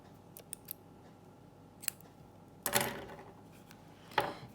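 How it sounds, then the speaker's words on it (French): Scissors snip crochet yarn at close range: a few light clicks, then two distinct crisp cuts with brief metallic rasps, against a quiet room background. "je viens couper mon fil"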